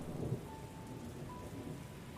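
Storm ambience for a fantasy tabletop game: steady rain pattering on surfaces with a low rumble of thunder near the start, soft and continuous, no voices.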